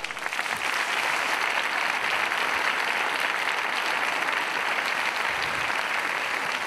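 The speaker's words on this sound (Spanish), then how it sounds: "un fuerte aplauso para Raquel" Dense, steady applause from a live audience at a Naukas science talk event in Murcia fills the whole stretch, loud and continuous with no voices over it.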